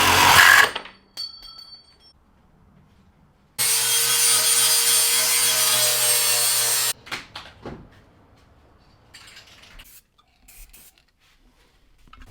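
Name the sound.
cutting off a bracket on a Silverado truck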